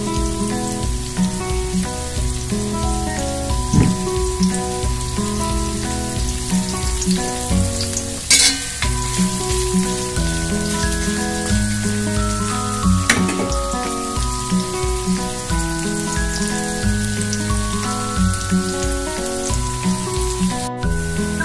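Onion, garlic and ginger frying in oil until crisp and golden for a Kelantan beef kerutuk, a dense, continuous crackling sizzle that holds steady throughout, close and fairly loud, with faint background music and no talking.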